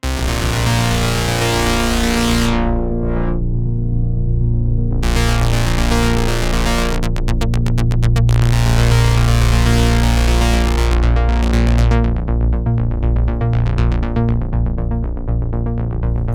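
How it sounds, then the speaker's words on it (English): A Sequential Prophet 600 analog synthesizer played dry with no reverb, dense sustained chords and bright bursts filling the whole range, loud and continuous with a punchy attack. "Now we're hearing the synths just clean going in, and let's start with the Prophet 600."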